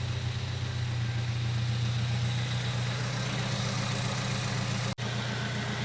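A 2022+ Subaru WRX, VB generation, idles steadily after a radiator install, a low even hum that holds without change apart from one brief dropout near the end.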